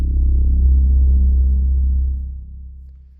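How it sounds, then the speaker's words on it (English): A synthesized sub-bass boom hit for a music piece: a deep, sustained low rumble that swells in, holds steady, then decays over about three seconds, standing alone with no voices. "and then we have the sub boom hit,"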